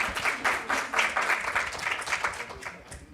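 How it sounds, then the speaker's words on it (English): Audience clapping at a live talk about art and transformation, a short burst of applause that pulses in waves and gradually thins out, with voices faintly mixed in. "I also feel like Patricia needs a round of applause"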